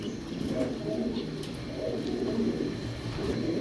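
A female pigeon of the lark breed coos in low, repeated murmurs, heard close and continuous, with faint background noise.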